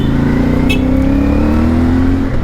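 A CF Moto 450MT 450cc twin-cylinder motorcycle cruising, its engine a loud, smooth low hum with a steady pitch that climbs slightly under throttle, mixed with wind rush and heard from the rider's position.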